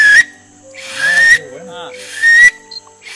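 Three shrill, high whistle blasts from an improvised whistle in the Amazon, each roughly half a second long, separated by brief pauses filled with soft rubbing and quiet voices.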